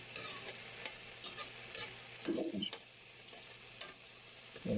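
Sardines and eggs stirred in a frying pan, a spatula scraping in scattered soft strokes over a steady low sizzle, close and fairly quiet with no talking.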